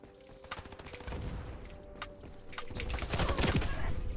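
Rapid gunfire from the SG553 rifle in the shooter Ironsight, a quick train of sharp, fairly faint shots over a low game hum, growing busier toward the end.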